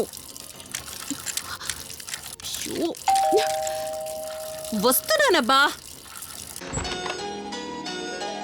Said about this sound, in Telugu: నువ్వు ఫోన్ చేసినప్పటి నుంచి ఆ ట్యాప్ కారుతూనే ఉంది